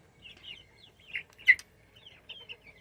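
Backyard chickens clucking softly and chirping in short scattered calls, one louder squawk in the middle, quiet and close with no talking.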